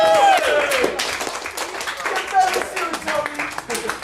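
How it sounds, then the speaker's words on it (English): An audience claps during an end-of-semester speech, with bursts of applause rising and falling under someone talking over it. "So Tony and Kaylee should get a round of applause"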